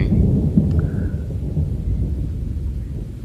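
Thunder from a thunderstorm with rain rolls as a deep, continuous low rumble, loud and steady, fading slightly toward the end, with no talk.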